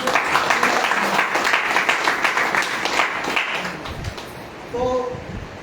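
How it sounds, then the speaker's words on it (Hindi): A meeting audience at an IMC business training program applauds Ashok sir, steady dense clapping throughout with a short spoken voice near the end. "एक बार अशोक सर के लिए जबरदस्त ताली होनी चाहिए"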